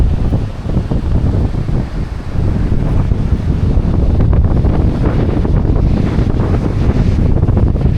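Strong wind roars loudly and continuously, buffeting the microphone with heavy low rumbling gusts throughout.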